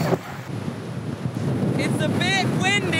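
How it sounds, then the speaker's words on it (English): Strong wind on a bridge buffets the microphone in a constant loud roar, with a voice heard briefly near the end. "It's getting windier."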